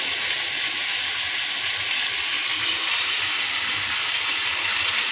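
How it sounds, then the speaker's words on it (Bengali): Potatoes fry in hot oil with salt and turmeric, giving a steady, even sizzle that runs unbroken at close range with no voices. "নুন হলুদ দিয়ে ভেজে নিতে হবে।"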